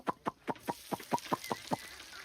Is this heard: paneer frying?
no